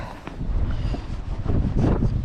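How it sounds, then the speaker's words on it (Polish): Strong wind at a pike-fishing spot in Ireland buffets the microphone in continuous low, rumbling gusts that swell and roar throughout, with no voices. "trochę wichura dzisiaj"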